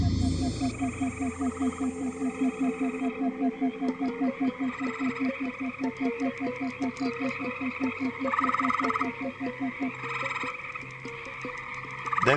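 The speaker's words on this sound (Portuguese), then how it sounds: "Devem se unir de 15 a 20 machos em torno do lago, coachando e esperando desesperadamente que a fêmea atenda ao chamado" Many male green frogs croak in a dense, steady chorus around a pond's edge, with rapid repeated calls overlapping throughout against a busy background of other calls.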